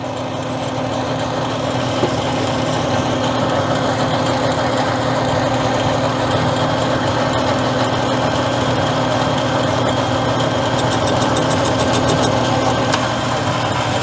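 A machine runs steadily on automatic feed while cutting scrap plumbing brass into brake reservoirs, a constant loud motor drone with a low hum throughout, no voices.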